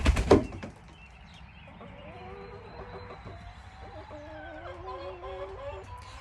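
Backyard chickens cluck and murmur nearby in a series of short, rising and falling calls, following a brief burst of rustling or wing flapping at the start.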